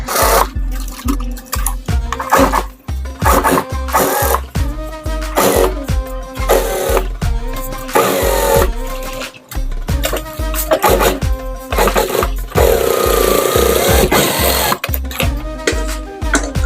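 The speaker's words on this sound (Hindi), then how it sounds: "अभी इधर चारों तरफ एक सिलाई दे देंगे। तो आइए मशीन पे चलते हैं।" A sewing machine stitches around the edges of a cushion made from leftover fabric scraps, running in loud close bursts with short pauses between seams and no talking.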